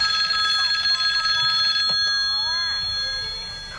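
A telephone bell rings in a movie scene, a steady trilling ring for about two seconds before it stops and a voice speaks.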